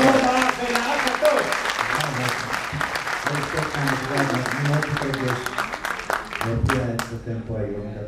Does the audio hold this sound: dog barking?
no